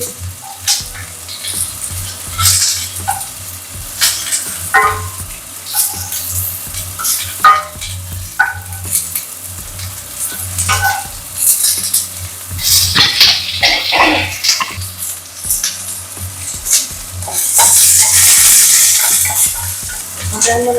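Onions frying in a pan sizzle loudly and steadily, with repeated scraping and stirring knocks throughout and a brief hissing flare near the end. No one speaks.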